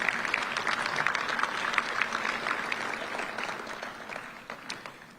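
Audience applause at a charity awards evening, a crowd clapping steadily at moderate distance, thinning slightly toward the end.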